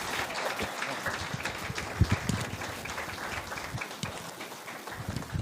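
Audience applause at an Islamabad Bible college graduation ceremony, a dense, fairly soft wash of clapping from a crowd in a large room, continuing steadily.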